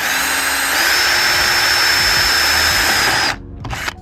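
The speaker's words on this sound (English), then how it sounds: "So I'll get my dad to drill it now in the hole" A power drill bores a hole to mount an air intake scoop on a Ford Focus ST/XR5 Mk2, running as a loud steady whine that rises in pitch after a second, then cuts off abruptly with a brief spin-down.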